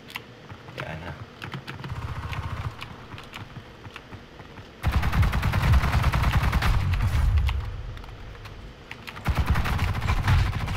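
Rapid bursts of video game gunfire crackle loudly in clusters, with a denser, heavier stretch of automatic shots in the middle and no voices.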